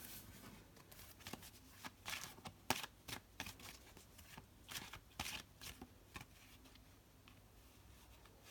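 Tarot cards being shuffled in quick, soft riffling bursts that come and go for several seconds, quiet and close, with no voices.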